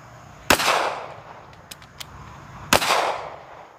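Two sharp handgun shots ring out about two seconds apart at a close-range practice drill, each loud crack followed by a short echoing tail, with a couple of faint clicks between them.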